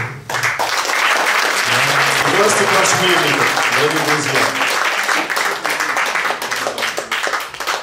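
Loud audience applause at an event honoring aviation figures, steady dense clapping throughout while someone speaks over it through a microphone.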